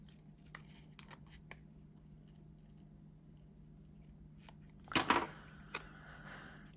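Scissors trim a planner sticker with a short, close burst of snipping near the end, after a stretch of quiet rustling and faint handling noises.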